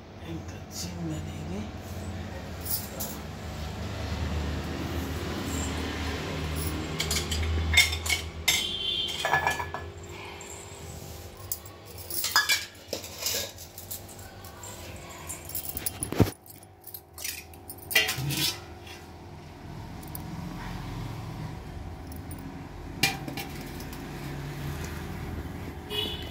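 Metal dishes and utensils clink and rattle in irregular bursts while oil extracted from custard apple seeds is poured into a bowl, with a person talking through most of it.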